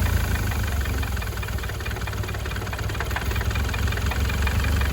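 A 4D20 diesel engine with an oil leak idles steadily up close, a constant low rumble with a rattling, knocking texture that holds even for the whole stretch.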